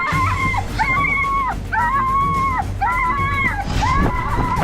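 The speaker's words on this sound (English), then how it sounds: "Chihuahua ran at me." A small Chihuahua yaps and howls in repeated high, wavering bursts, about four loud calls in quick succession, close by with faint voices underneath.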